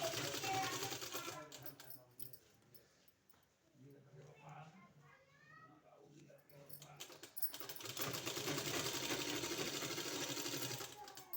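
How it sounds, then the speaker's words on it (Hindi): An electric sewing machine stitches dupatta fabric with a fast, even, buzzing whir, loud at the start and again at the end, with a quieter middle stretch where someone speaks. "इसी तरह से पूरे में सिलाई लगा लेना है"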